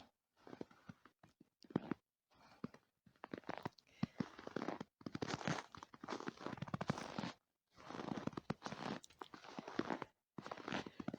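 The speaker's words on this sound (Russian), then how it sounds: "Как хрустит снег" Crunching footsteps on snow, a steady rhythm of close, crisp steps with brief pauses between bursts, no voices.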